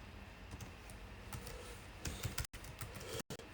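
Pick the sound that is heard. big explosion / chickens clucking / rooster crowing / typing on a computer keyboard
typing on a computer keyboard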